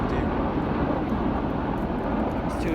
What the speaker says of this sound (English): They're two military helicopters. Just taking their pass.